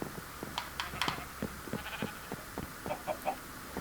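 Several Minecraft sheep bleat repeatedly in short, overlapping calls, some nasal and wavering, with a few clucks from chickens mixed in at close range.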